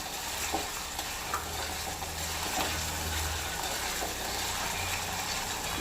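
Crushed ginger and garlic fry in a pan for a fish curry, with a steady busy sizzle and crackle and occasional stirring scrapes, continuous and close.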